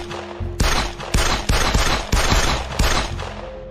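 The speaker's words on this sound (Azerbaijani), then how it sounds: "Əlini çantasına atıb çıxardığı Makarov tipli tapancası ilə ani olaraq ətrafındakı insanlara atəş açmağa başladı." Loud, close pistol shots from a Makarov handgun, about six sharp reports in an irregular sequence, each ringing briefly over a low hum, with no talk.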